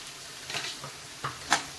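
Ginger garlic paste sizzling in hot oil for fried rice, a soft, quiet crackle with a few brief stirring scrapes spaced out over a short stretch and no voices.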